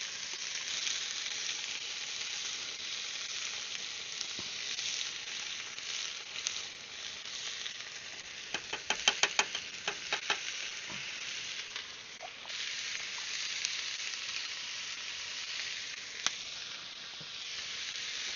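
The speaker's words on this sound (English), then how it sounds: "we are gonna throw some beans in there" Beans with onion, jalapeno and corn sizzle steadily in a hot pan at a camp, close and even, with a short run of quick scraping stir clicks midway and no talk.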